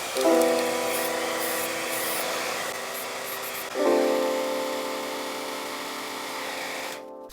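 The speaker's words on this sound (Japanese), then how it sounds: "ツヤスプレーを振ります。" A can of gloss spray hisses steadily over a repaired wood-grain floorboard, running in two long continuous bursts with a short break between them, close and fairly loud.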